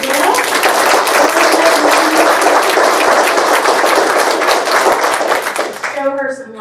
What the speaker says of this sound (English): let's give a round of applause for Gail